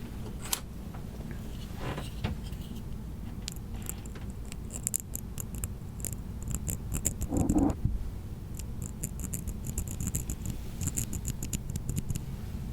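Scattered short snips and crisp cutting clicks as scissors cut yarn while crocheting, close by, with faint handling noise and a low steady hum underneath.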